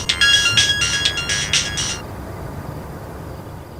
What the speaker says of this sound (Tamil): அம்மா தானே கால் பண்ணுறாங்க, எடுத்து பேசுகிறா